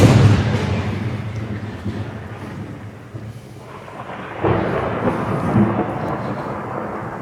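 Deep rumbling thunder rolls on, fading then swelling again with a heavy crack partway through, loud and booming with a steady wash of rain-like noise.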